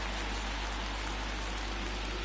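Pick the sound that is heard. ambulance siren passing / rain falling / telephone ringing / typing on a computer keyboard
rain falling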